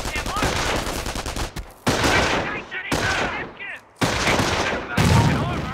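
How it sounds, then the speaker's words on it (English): Machine gun bursts and a grenade blast from the Company of Heroes real-time strategy game, loud dense gunfire in several long bursts with a brief gap and a low thump near the end, with some game voice mixed in. "Let's throw a grenade to destroy the machine gun team."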